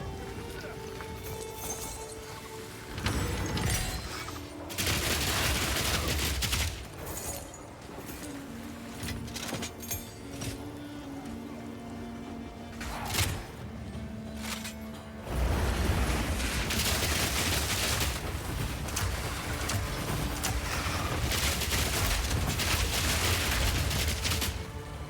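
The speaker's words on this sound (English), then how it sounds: "Tombstone trap. They are exploding into like burst lava." Tombstone traps exploding into bursts of lava in the video game Path of Exile 2, heard as repeated loud booming blasts and crackling bursts amid combat noise, with some sections of dense continuous explosions.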